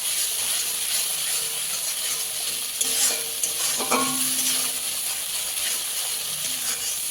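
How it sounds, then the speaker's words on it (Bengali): Crab roe stir-fried with spice paste in a pan for a potato crab curry made without onion or garlic, with a constant sizzle and a few clattering scrapes of a spatula stirring the mixture. "কাঁকড়ার এই ঘেলুটা মশলার সাথে ভালো করে কষিয়ে নেব"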